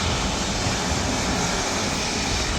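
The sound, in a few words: Airbus A350 jet taking off down the runway at Manchester Airport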